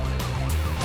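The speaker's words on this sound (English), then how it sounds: "An ambulance has arrived." An emergency siren wails loudly at a motorway crash scene as an ambulance arrives, its repeating tone running over a heavy low engine rumble, close and without talk.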